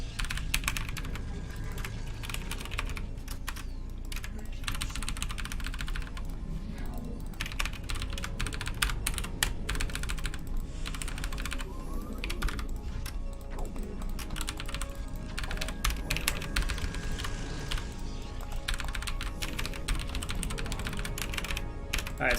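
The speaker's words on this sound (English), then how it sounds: "Ah, keyboard." Rapid, continuous clicking of a computer keyboard during a StarCraft: Brood War game, dense and steady throughout with no speech.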